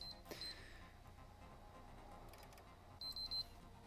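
A broken electronic device during weekend home repairs gives off short, thin high-pitched beeps, one early on and a quick run of three near the end, faint against quiet room noise.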